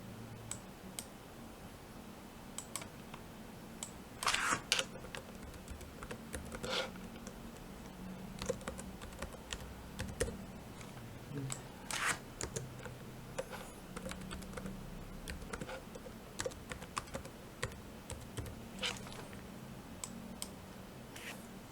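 Password being typed on a computer keyboard: a quiet, steady run of light key clicks and taps, irregular in rhythm with a few sharper louder strikes, no talking.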